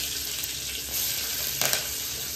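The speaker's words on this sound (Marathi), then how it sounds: "हे काय तेल टाकलं काय? उडते ते उडतं काय पण एवढं तेल वाटतं." Oil sizzles steadily in a pan as lemon rice is cooked at home, with a constant hiss and a brief burst of spattering, all fairly close and without talk.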